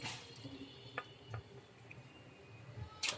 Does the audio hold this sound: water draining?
yes